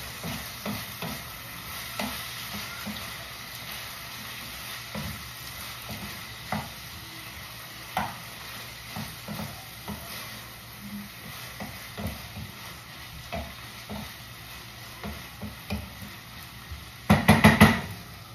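Chicken liver adobo sizzles steadily in a pan while a utensil stirs and scrapes through it in repeated close strokes, ending in a louder burst of clattering stirring; no talking.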